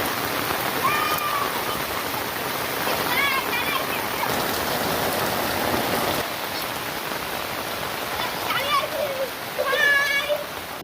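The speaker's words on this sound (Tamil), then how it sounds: "கீழ்வேலூர் சுற்றுவட்டார பகுதிகளில் கோடை மழை கொட்டி தீர்த்ததால் பொதுமக்கள் மகிழ்ச்சி" Heavy summer rain pours steadily around Kilvelur in Tamil Nadu, a dense, even hiss of water that lasts throughout, while faint voices and brief high calls rise now and then over the downpour.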